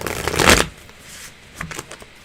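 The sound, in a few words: tarot cards being shuffled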